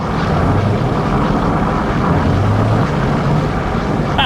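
Steady, loud engine drone and road rumble from a car cruising in fifth gear, a continuous unbroken roar with no gear grinding or popping, heard alone without talk.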